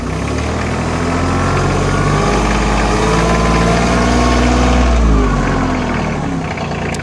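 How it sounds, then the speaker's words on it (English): A Bobcat CT2025 compact tractor's diesel engine revs up as its linked hydrostat pedal is pressed, a loud, steady, rumbling drone that rises gradually and then eases, heard up close with no talk. "when I depress the pedal for the hydrostat, it'll rev up automatically"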